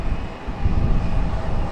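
An airplane at Raleigh-Durham International Airport, a steady broad engine roar that swells slightly partway through, sustained and fairly loud with no talk.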